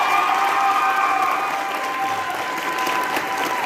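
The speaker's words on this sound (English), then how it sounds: "a huge round of applause for the 2024 senior class." An audience at a high school show choir cabaret applauds a performer, a dense, sustained wash of clapping from a large crowd that carries on steadily throughout.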